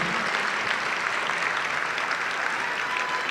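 A room of bidders at a charity auction applauds a $100,000 bid, a short burst of steady, dense clapping from a sizable crowd that holds at an even level throughout.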